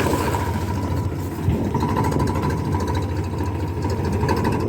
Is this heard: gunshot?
no